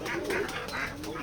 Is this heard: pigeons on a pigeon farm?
yes